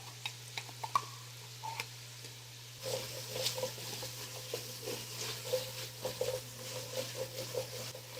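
Seventy grams of tomato paste sizzles and crackles softly as it cooks in a pan, with a low steady hum under it and some stirring taps.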